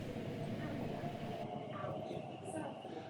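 A London Underground Tube train rumbles steadily at close range, a continuous low roar of rail and carriage noise with no break, while voices murmur faintly in the background.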